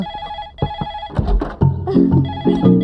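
A household telephone rings in repeated short electronic bursts, loud and close, in a domestic setting, with other noises and clattering mixed in after the first rings.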